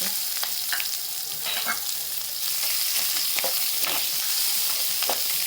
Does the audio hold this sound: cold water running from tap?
no